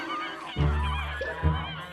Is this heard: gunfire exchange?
no